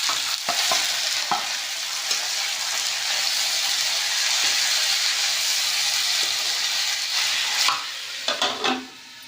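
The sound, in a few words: bitter gourd frying in pan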